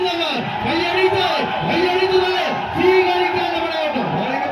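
A large crowd at a tug-of-war grand final in Kurumullur, Kottayam, roars and whoops in rising and falling waves, dense and loud, with a rhythmic chanting swell repeating throughout.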